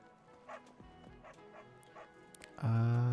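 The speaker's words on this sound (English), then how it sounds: "There's also a lot of cats and dogs here for like no reason." A dog in Fire Emblem: Three Houses gives a few soft yips and whimpers over quiet game ambience, then a short, loud bark-like burst closes it.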